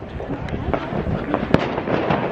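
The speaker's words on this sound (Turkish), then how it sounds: "Ve şu an bir şeyler patlatıyorlar. Çatapat patlatıyorlar." Firecrackers pop and crackle across a crowded Italian city square during a celebration, scattered sharp bangs over a steady murmur of crowd noise.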